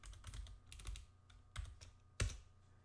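Computer keyboard keys tapped to type a short name into Figma: a handful of quiet, distinct clicks at an uneven pace, close up and otherwise silent.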